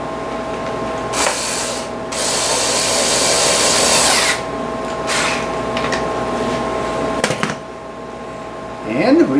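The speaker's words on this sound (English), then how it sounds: "We'll put some bolts around here, squeeze this baby down" A power tool driving bolts to clamp a tip tank part mold, with loud whirring bursts of varying length separated by pauses, close by, with a steady hum underneath.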